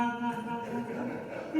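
A voice imitates singing with heavy, wavering vibrato, a short sustained tone heard alone at a party celebrating a Rotary club's 100th anniversary.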